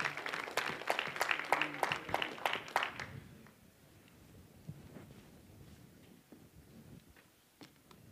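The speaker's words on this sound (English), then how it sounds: "Let's give the Lord a hand clap of praise as we're seated." A church congregation gives a burst of hand claps of praise during a worship service. The claps are dense and fairly close for about three seconds, then fade into a quiet room with faint shuffling.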